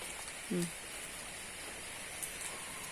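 Steady rain falling outdoors at night in rural Thailand, a soft continuous hiss with faint patter throughout and one brief low sound near the start, no clear talk.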